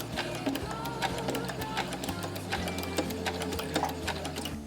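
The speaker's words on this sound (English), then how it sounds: "I'm gonna do a straight stitching into that corner." A sewing machine runs a straight stitch into the corner of a quilt, its rapid, steady mechanical whirring and clatter continuing close and loud throughout, with no pauses.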